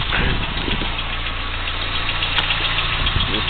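A 1995 Chevrolet Corsica's 2.2 engine idles with the hood open, a steady low rumble heard up close with a faint knocking texture, no talking.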